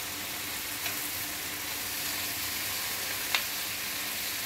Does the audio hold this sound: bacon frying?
yes